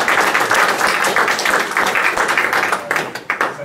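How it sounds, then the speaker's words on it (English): Loud applause from a meetup audience for the speakers after a search-technology talk, dense clapping up close that swells and then thins into a few scattered claps near the end. "Let's give you a round of applause."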